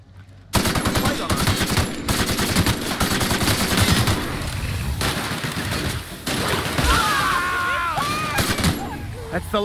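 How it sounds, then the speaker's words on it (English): Machine gun fire in The Outer Worlds, dense automatic bursts rattling continuously and loudly for most of the clip, with a game voice talking over part of it. "The machine gun has good DPS when there's a bunch of them."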